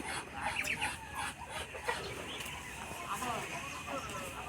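Rooster and chickens cluck and call on a small integrated farm in Nawalparasi, Nepal, with bursts of clucking over steady barnyard noise and a voice talking nearby.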